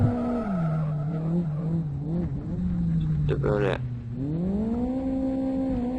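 Front-wheel drive car in the Live for Speed racing game, engine droning steadily while tires squeal in a short skid midway, with someone talking over it.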